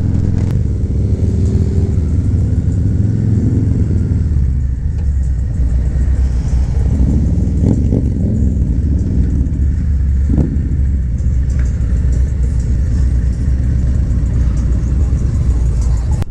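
A Harley-Davidson Pan America motorcycle being ridden along twisty roads, its steady mid-pitched engine drone and road rumble continuous and close throughout, with occasional faint voices underneath.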